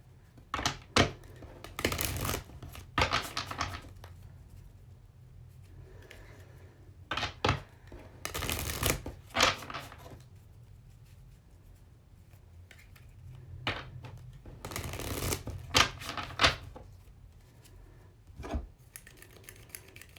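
A deck of tarot cards being shuffled by hand at close range, with irregular bursts of riffling, tapping and rubbing scattered through a quiet room, some louder clusters, no voices.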